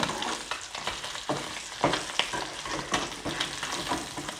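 Sardines fry in hot oil with a continuous close crackle and sizzle, broken by sharper pops and spatters that come every second or so.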